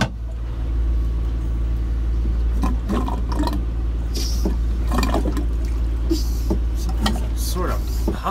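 A marine toilet on a boat is pumped and flushed over a constant low engine or motor hum, with irregular clunks and sloshing water gurgles from the hand pump.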